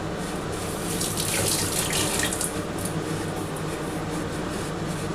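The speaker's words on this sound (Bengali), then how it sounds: "সামান্য অল্প একটু জল দিয়ে দিচ্ছি বন্ধুরা।" A small splash of water poured into a pan of katla fish curry, heard as a steady close running hiss of water throughout, with no voices.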